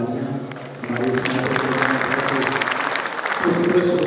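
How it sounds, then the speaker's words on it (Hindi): Audience applause at a kavi sammelan and mushayara poetry gathering, a broad wash of clapping that runs throughout, with a voice talking over it at the start and again near the end. "मिथिलेश जी के लिए बार-बार जोरदार तालियां"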